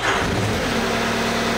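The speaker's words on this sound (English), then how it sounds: "I can go ahead and start the ignition." The engine of a large 8000 lb robotic CAT 242 skid steer, an RC machine, catches on ignition and settles into a close, loud mid-pitched running drone, with no voices.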